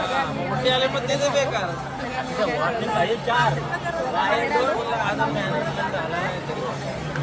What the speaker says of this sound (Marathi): खूप गर्दी होती